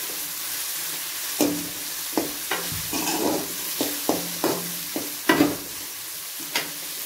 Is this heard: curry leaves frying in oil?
yes